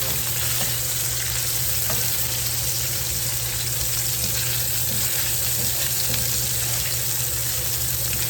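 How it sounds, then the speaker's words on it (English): Grease popping and sizzling steadily in a pan while food browns, a loud, continuous frying hiss with small crackles throughout and no talking. "Grease was popping."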